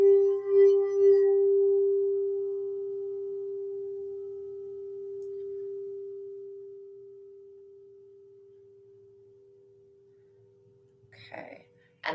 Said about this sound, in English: This crystal singing bowl sound bath that we're listening to right now is for the 9 chakras.